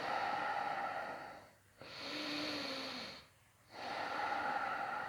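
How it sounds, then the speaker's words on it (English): Slow, deep breaths during a gentle yoga pose, two long airy exhalations and an inhale separated by quiet pauses, close and clearly audible. "Big breaths."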